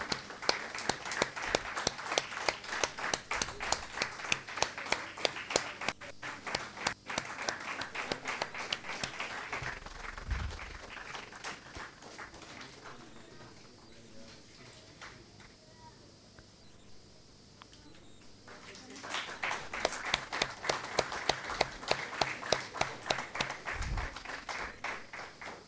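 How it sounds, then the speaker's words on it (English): Audience clapping at an alumni meet and book launch, rhythmic and fairly steady hand claps that fade to near quiet midway, then swell back up, with faint voices in the background. "Everyone please clap,"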